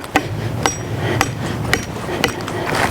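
Rebar is hammered into the ground for a raised-bed greenhouse: five sharp metallic strikes at an even, unhurried pace, close and clear.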